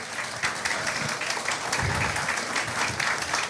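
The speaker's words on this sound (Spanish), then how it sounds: "Reciban con un fuerte aplauso a José Boy y nuestro amigo Luis Bustamante" A live audience at a Christmas horror stage show applauds to welcome guests onto the stage, with dense sustained clapping throughout.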